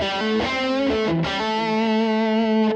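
Distorted electric guitar through a Line 6 Helix modeler, sustained chords ringing loud and close with a brief break partway, no talking.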